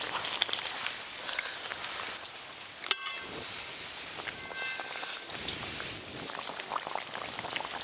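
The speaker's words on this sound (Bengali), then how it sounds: "ঝোল বেশ ভালো করে ফুটে গেছে, এবার সব ভেজে রাখা মাছগুলো দিয়ে দেবো।" Fish curry gravy boils in a pot on the stove, a steady, close bubbling and hissing simmer that runs throughout, broken by one sharp metallic click partway through.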